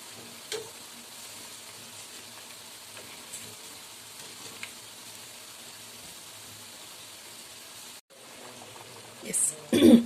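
Urad dal vadas deep-frying in hot oil, hotel style, give a steady soft sizzle throughout, broken by a brief gap and a few louder clatters near the end; no one talks.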